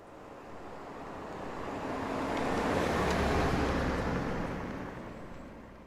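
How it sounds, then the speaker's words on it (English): A stock sound effect of a car driving past, a broad road whoosh that swells to a peak midway and fades, with faint rattles, alone. "So there's the car going past, and that is a stock effect from Soundly."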